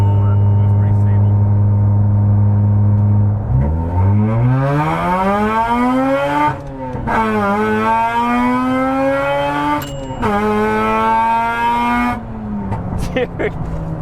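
A straight-piped Mazda RX8 rotary engine at wide open throttle, a loud buzzing exhaust note climbing steadily through the revs, dropping briefly at each gear shift, then rising again, heard from inside the car.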